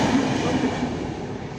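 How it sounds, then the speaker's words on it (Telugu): A train runs past a railway crossing gate in a loud, close, continuous rumble with a faint metallic squeal from the wheels and no voices. "నాకు తెలియదు ట్రైన్ వస్తుంది"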